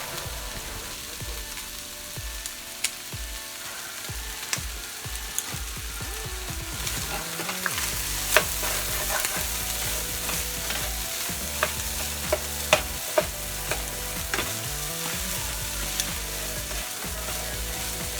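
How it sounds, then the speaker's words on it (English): Filipino-style spaghetti sauce with liver spread and pork cubes being stirred in a hot pan, a steady sizzle under repeated scraping and clanking of the spoon against the pan. "you have to keep on mixing it or else it's gonna get burned"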